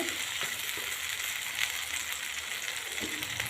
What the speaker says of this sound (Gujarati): ધીમા તાપે આને 5 થી 7 મિનિટ સુધી શેકવાનું છે।